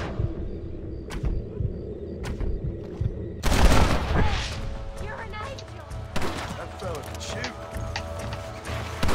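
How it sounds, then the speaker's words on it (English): Gunfire in the video game Red Dead Redemption: a few sharp isolated shots followed by a louder burst of overlapping gunfire and clatter, with game sounds around it. "That fella can shoot!"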